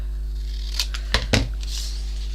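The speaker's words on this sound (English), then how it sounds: "I'm just going to get my scissors and just do a straight cut up" Scissors making a short straight cut through gel-printed paper for a mini book, a few quick crisp snips close up over a low steady hum.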